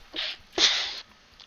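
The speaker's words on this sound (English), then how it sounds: "I had to sneeze" One person sneezes up close, first a short breathy intake and then a sharp, loud burst that tails off quickly.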